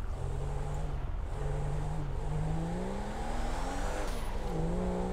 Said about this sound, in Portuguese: Quer dar uma voltinha no Opala pra tu ver como é que é?